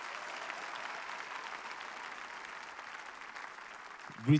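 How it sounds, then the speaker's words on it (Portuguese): Church congregation applauding during a sermon, a soft, even spread of clapping heard from a distance, ending with a brief louder thump. "Se você está feliz por estar na presença de Deus, aplauda Jesus."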